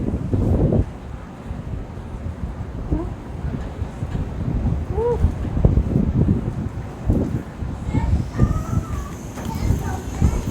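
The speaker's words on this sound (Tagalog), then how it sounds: "lakas ng hangin" Gusty wind on a rooftop deck before rain buffets the microphone in uneven bursts, with voices talking intermittently over the rushing noise.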